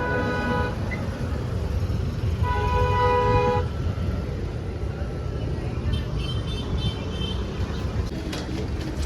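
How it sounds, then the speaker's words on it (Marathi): A car locking at a roadside vada pav stop in Panvel gives two short tonal beeps, the first brief and the second a little longer, over steady street and traffic noise. "गाडी लॉक करतो."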